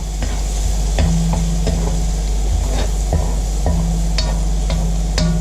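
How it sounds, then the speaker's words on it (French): Garlic cloves and onions frying in a pan while a spoon stirs them, a steady close sizzle with repeated scraping and clinking strokes of the utensil against the pan. "je mets les 2 autres gousses d'ail dans mes oignons"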